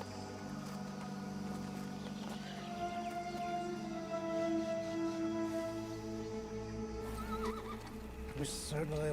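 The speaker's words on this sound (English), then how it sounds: "Have Tomas ready, my horse." In a TV drama scene a horse whinnies loudly over continuous background score, with hooves clip-clopping and a low rumble underneath.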